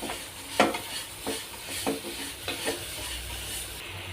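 Sliced banana and sugar sautéing in a pan, with soft sizzling under several distinct stirring scrapes at an irregular rhythm, close and fairly quiet.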